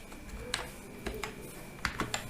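Someone types a move command at an MS-DOS prompt on a computer keyboard, a sparse run of soft, close key taps with short gaps and a quick pair near the end, over faint background hum.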